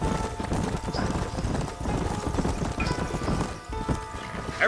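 Horses gallop in the Red Dead Redemption western game, near New Austin. Rapid clip-clop hoofbeats carry on steadily under game music and ambience, with a faint whinny near the end.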